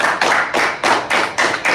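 An audience claps in honour of a soldier at a defence academy event, in short rhythmic bursts of about four beats, close and fairly loud, with no speech.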